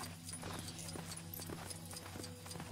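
Horse hooves clip-clop at an even riding pace in the Lego Jurassic World video game, quiet and regular over a low in-game musical hum.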